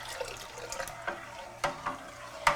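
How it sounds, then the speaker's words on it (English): Egg mixture poured into hot broth for chicken lemon rice soup, a short run of soft liquid splashes and drips with a few sharper bursts near the end. "When I pour this into my hot broth, it's going to incorporate really nicely."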